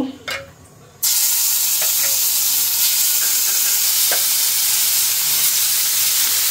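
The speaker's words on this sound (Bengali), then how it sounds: "তো তেলটা গরম হয়ে গেছে, এখন মাছগুলো দিয়ে নিব।" Fish dropped into hot oil bursts into a loud, continuous sizzle and hiss after a moment of quieter kitchen sounds, close and steady to the end.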